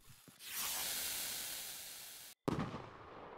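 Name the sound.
firework rocket launching in the video game Fireworks Mania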